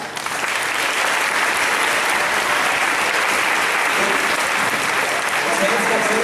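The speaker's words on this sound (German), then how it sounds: "Bitte einen riesen Applaus." Loud, sustained audience applause fills a martial arts show after a lion and dragon dance performance at a Swiss wushu qualifier, a dense wash of many hands clapping steadily throughout with no break.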